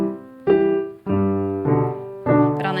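A piano plays a waltz pattern in the left hand beneath a right-hand melody, with four distinct chords struck one after another in a steady rhythm, each ringing and sustaining clearly with no talking.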